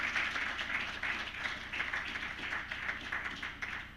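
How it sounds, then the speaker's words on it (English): Applause from an audience after a minister's keynote at a healthcare policy dialogue, a steady, even patter of many hands clapping, fairly faint and distant, lasting throughout without a break. "Please, can we give him another round of applause?"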